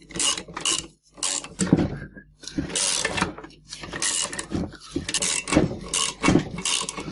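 Screws with split lock washers being fitted into the flange of a Renault 4L rear axle, giving a series of short metallic clicks, rattles and clatters in bursts, close and moderately loud, with no talking.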